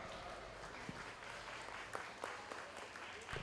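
An audience claps for kids at a 4-H market lamb show at the Lawrence County Fair, a steady spread-out applause under a noisy arena background with scattered sharper claps.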